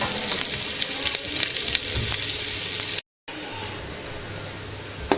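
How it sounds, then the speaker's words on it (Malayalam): Onions sautéing in oil for egg biryani give a steady, close sizzle and crackle with faint stirring, broken by a brief gap before the frying resumes at the same level. "ഇപ്പോൾ അതേ സവാള പൊരിച്ചു ഒരു എണ്ണയിലേക്ക് ഞാൻ ഈ ബാക്കിയുള്ള സവാള ഇടുന്നുണ്ട്"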